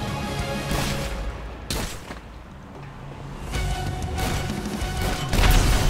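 Gunfire aimed at glass inside a mansion in GTA 5 comes as several loud, sharp bursts with crashing impacts, spaced a second or two apart over a low game background.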